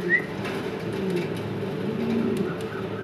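German Beauty Homer pigeons, a pair kept with eggs, coo softly and continuously at close range in low murmuring tones, with faint background noise.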